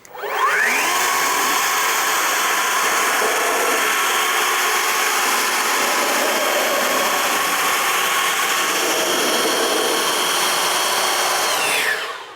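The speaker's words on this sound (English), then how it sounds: "can we remove this water with the leaf blower?" A loud, steady leaf blower roars continuously with a rushing airflow hiss as it blows water off a car, starting and stopping abruptly at the ends, close by and alone.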